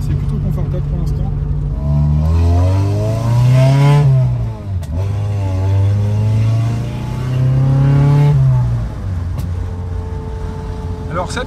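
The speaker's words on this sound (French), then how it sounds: "Alors ça pétaradouille, je sais pas si c'est le pot ou si c'est les cailloux sur la route." Inside a moving Rover 220 coupé with a 2-litre engine on a rough road, the motor revs up and eases off in two long rising and falling sweeps, with faint pops from the exhaust, loud and close.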